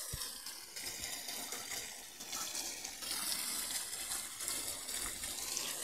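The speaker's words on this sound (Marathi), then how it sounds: "असं पाणी टाकायला सुरू आहे।" Water pours steadily into a compost pit of cut grass and stalks on a farm, drawn from a well, a continuous gushing splash that stays fairly loud and even throughout with no talking.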